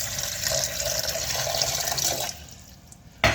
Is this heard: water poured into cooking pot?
yes